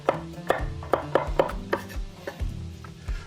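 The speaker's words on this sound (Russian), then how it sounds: "Лучше, конечно, раздавить и порубить." A knife chops garlic on a cutting board in a quick series of sharp knocks, close and distinct, with short pauses between bursts of strokes.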